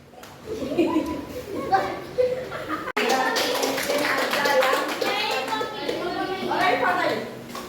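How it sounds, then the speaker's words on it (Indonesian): Children clapping their hands together in an elementary classroom during a lesson, a burst of scattered, lively claps rising midway, mixed with a teacher's and kids' voices talking and chuckling throughout. "Yang semua malah tepuk tangannya."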